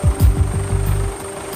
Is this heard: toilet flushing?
no